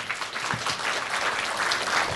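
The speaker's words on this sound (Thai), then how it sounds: "ขอทุกท่านปรบมือต้อนรับ" Audience applause at a business strategy seminar welcoming a speaker, a dense, steady burst of many hands clapping that fills the whole two seconds at an even loudness.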